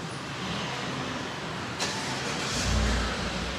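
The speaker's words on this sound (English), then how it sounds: "Vehicle is good for the remote start engine" A 2018 GMC Sierra 1500 All Terrain V8 pickup starts by remote start and runs. The engine is heard at moderate distance, a broadband rumble that catches and swells briefly as it fires up, then settles into a running idle.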